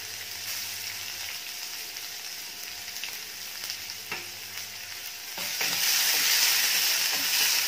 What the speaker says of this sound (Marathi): आता घालायचा आहे कांदा. एक मध्यम आकाराचा कांदा बारीक चिरून घेतलाय मी.